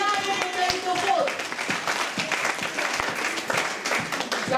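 A church congregation at a Rotterdam service applauds and cheers in praise of God, a dense, sustained wash of clapping with brief vocal tones at the start and overlapping voices throughout.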